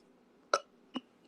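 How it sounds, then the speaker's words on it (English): A person lets out a short, abrupt burp, followed by a smaller second gulp-like sound, close to the mic in a quiet room. "I tried to burp up wind"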